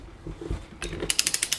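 A torque wrench tightens the pinion nut on a Dana 20 axle from an early Ford Bronco. A few dull knocks come first, then a quick, close run of sharp ratchet clicks.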